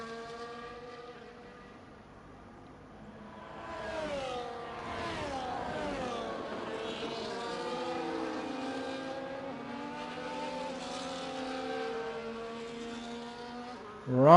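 Race cars in F1 24 on the China circuit, engine notes rising and falling as they overtake and swap positions, a sustained mid-loud whine alone with shifting pitch throughout.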